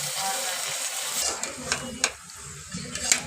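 Mutton bones frying with onions, turmeric and ginger-garlic paste in a pan, with a steady sizzle and a few sharp stirring scrapes.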